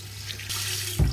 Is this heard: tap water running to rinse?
yes